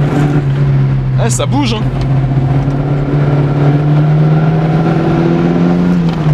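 An Alpine A110 1300 V85 engine is held above 5000 rpm, giving a loud, steady in-cabin drone with a slight rising pitch, while someone speaks briefly over it.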